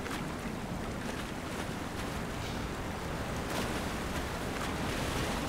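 Waterfall in the video game Black Mesa, heard as a continuous, dense rush of falling water that holds steady and loud without letup.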